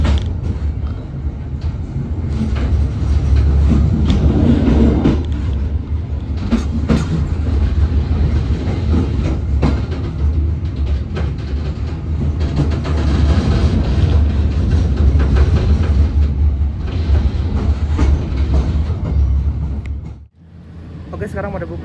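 Passenger train on the Bandung–Jakarta line arriving at Cikampek station, with loud continuous rumble, creaking carriages and rhythmic clickety-clack of wheels on rails, easing off briefly near the end.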